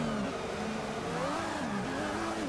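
A Ferrari 312T Formula 1 car in Forza Motorsport 6, its engine holding a steady high whine that rises and dips with gear changes, loud and continuous.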